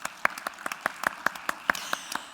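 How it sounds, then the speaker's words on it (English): A seminar audience claps, a sparse run of distinct individual handclaps at a quick uneven rhythm, fairly quiet and short, with no talk over it. "Give yourselves a round of applause and thank you."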